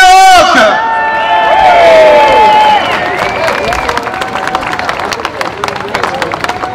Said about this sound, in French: Mesdames et messieurs, un tonnerre d'applaudissements pour Karim Reinach.